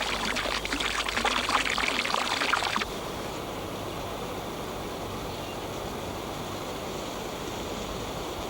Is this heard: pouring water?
yes